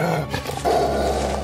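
A very large dog growls low and menacingly in a horror story, a sustained rumbling snarl that swells partway through, close and loud against a dark ambient bed.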